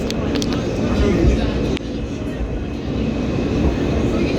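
A New York subway train, likely an E train, rumbles past in a loud, steady roar with a sharp jolt midway, heard from a nearby riding train.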